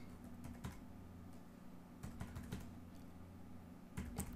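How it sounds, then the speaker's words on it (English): Keyboard arrow keys being tapped on a computer during point-of-sale software work: a few scattered clicks near 0.6 s, a quick cluster around 2.0–2.5 s and another near 4.1 s, all close and quiet over a low steady hum. "And sometimes I use the arrow keys"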